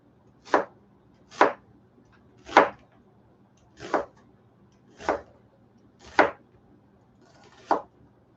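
A knife cuts deer loin into strips on a board, seven sharp, evenly spaced chops, close and clear against a quiet background.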